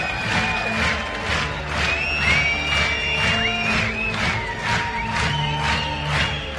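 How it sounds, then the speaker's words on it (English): An audience at a world breeding dressage championship for young horses claps in a steady rhythmic beat, pulsing claps repeating about twice a second under music with sustained tones and a busy crowd murmur. "applause has to be louder"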